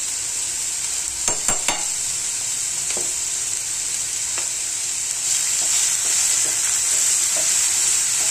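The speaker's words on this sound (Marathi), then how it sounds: "हा तेलामध्ये चांगला फ्राय होऊन द्यायचा." Khichdi ingredients fry in oil with salt added, a loud steady sizzle up close, with a few quick spoon knocks against the pan near the start and the hiss swelling slightly toward the end.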